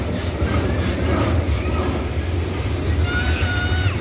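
A train rumbles steadily past near the River Wupper in Leverkusen, heard from a forest cycling route, with a continuous low roll, some faint wheel squeal and a soft voice in the background.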